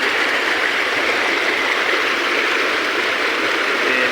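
Floodwater roars out of the open gates of the Pong dam after heavy rain, a constant, loud, even rush of water with no breaks and no voices.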